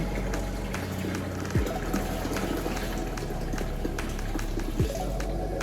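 Boiled water poured into a fermenter for hard cider, a steady continuous splashing flow near the microphone with a few soft knocks.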